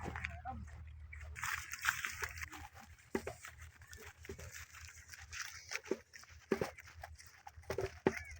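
Nili-Ravi buffaloes bathe and drink in river water, giving faint irregular sloshes and splashes while people talk over the scene.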